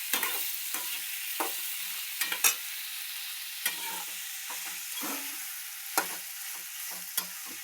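Tomatoes fry in a hot pan with a steady sizzle, while a utensil stirs and scrapes them in repeated short knocks spread evenly across the stretch.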